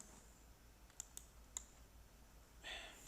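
Computer mouse clicks during a computer logic lesson come as three sharp, quiet clicks close together in a near-silent room, followed by a short soft rustle.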